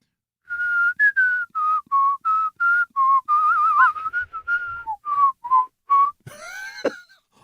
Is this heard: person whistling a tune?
yes